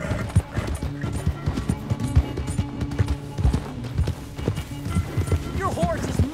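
Horse hooves galloping in Red Dead Redemption 2, a steady rapid clip-clop running throughout, close and prominent, with talking and in-game sounds layered over it and a brief whinny near the end.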